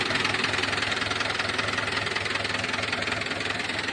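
A Swaraj 841 XM diesel tractor engine, a 2016 model, idles close by with a steady, rapid knocking rumble that stays even and loud the whole time.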